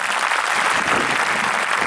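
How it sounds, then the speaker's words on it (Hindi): An audience at a spiritual awakening gathering claps for a judge, giving a brief, loud, steady burst of applause. "इनके लिए ताली बजा दीजिए"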